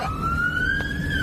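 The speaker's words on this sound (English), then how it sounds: "This footage shows an ambulance attempting to get around a white Volkswagen that seems completely reluctant to move." Ambulance siren wailing close and loud as the ambulance tries to get around a stopped white Volkswagen, a single rising tone held steadily over road rumble.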